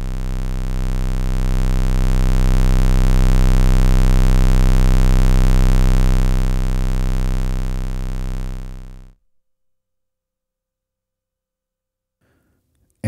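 A loud, buzzy square-wave synthesizer tone from a Mangrove oscillator, patched through a Cold Mac with its threshold swept, drones steadily for about nine seconds, its brightness shifting slightly, then cuts off abruptly to silence.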